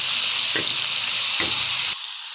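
Pancit bihon noodles with string beans stirred in a hot pan, a steady sizzling hiss broken by two soft scraping stirs before the frying noise drops lower near the end.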